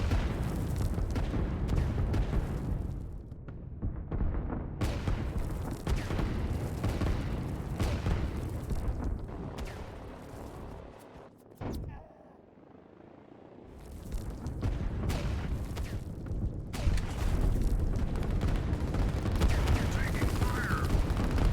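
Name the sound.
artillery fire in the video game Line War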